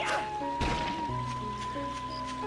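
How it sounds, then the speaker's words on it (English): A rock shatters in the video game Dark Cloud 2 with a woody crate-like crack and thud, followed by a brief tumbling rattle of debris over a steady game music drone. "the sound effect for them breaking is kind of just sounds like the wooden crate breaking"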